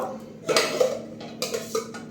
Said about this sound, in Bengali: হাঁড়িতে ভাত বসালাম, চাল দিচ্ছি